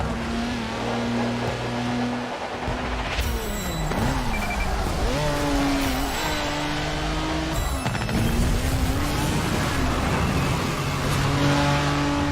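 Race cars engines roar and rev continuously in the Forza Street racing game, with loud shifting engine tones rising and falling as gears change, steady and close throughout with no talking.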